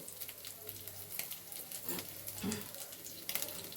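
Oil added to a pan for egg curry, sizzling softly and steadily close by with a few small pops and stirring sounds, fairly faint, with a voice speaking quietly underneath.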